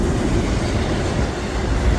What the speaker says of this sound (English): Yeah, Conrail cars went past.